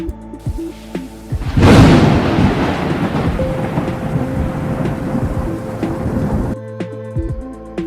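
Thunderstorm sound effect standing in for a snowstorm: a heavy, rolling thunder crack near the start over a continuous wash of loud rain that runs on and then cuts off abruptly.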